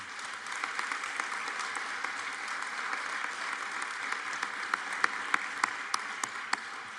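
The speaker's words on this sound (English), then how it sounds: "they were clapping for your wife" An audience at a school board meeting claps steadily, a soft, even wash of applause with a few sharper, closer individual claps standing out toward the end.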